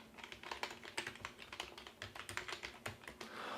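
Quick, steady clicking of keys on a computer keyboard as an email address is typed, close and quiet, in a continuous run of taps with no talking.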